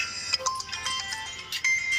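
A mobile phone plays a ringtone, a short, bright melodic pattern of repeated notes at moderate volume, with no talking over it.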